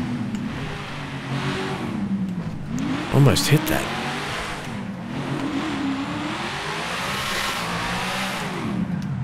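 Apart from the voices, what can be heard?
V8 muscle car revving in video game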